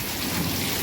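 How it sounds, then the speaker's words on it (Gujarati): Heavy rain during a storm with thunder and strong wind, a dense, loud wash of noise filling the brief moment without a break and with no voices. "વરસાદ વીજળી વાવાઝોડું ગાજવીજ થઈ ગયું ચાલુ."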